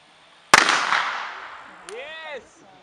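A reenactment artillery gun fires once with a sharp, loud blast and a long rumbling decay, followed by a shouted voice as the echo fades.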